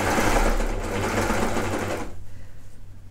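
A sewing machine stitches a tee, its motor whirring loud and close before slowing into a pulsing, rhythmic stitch near the end, with no speech.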